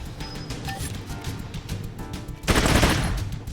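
In the Troubleshooter game, a character fires on a target named Ann: a short, loud, rapid burst of gunfire punches in near the end after quieter game ambience.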